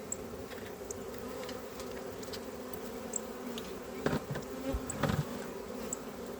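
Caught bee swarm buzzing inside a hive fitted with a queen excluder, a soft steady hum with occasional louder bees passing close.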